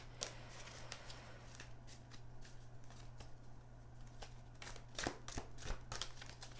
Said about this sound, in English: Let's pull some tarot cards for you, and we will be using the Light Seers tarot deck.